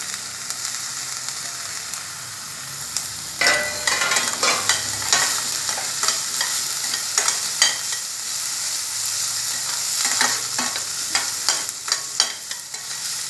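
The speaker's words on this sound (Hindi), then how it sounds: "अब इसमें हम कैप्सिकम डालेंगे।" Capsicum is stirred into a sizzling vegetable paste mixture in a pan for a mixed-veg Frankie filling, with steady frying hiss and repeated scraping, clattering strokes of the spoon, close and clear with no talking.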